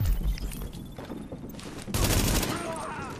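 Bursts of automatic gunfire from the video game The Division, a police academy mission, rattle in rapid volleys, with a dense, loud stretch near the end over background game noise.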